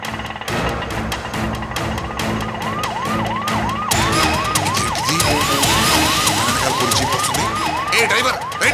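A police jeep siren wailing in a fast repeating up-down pattern that starts a few seconds in and stays loud to the end, over engine and traffic noise with some voices.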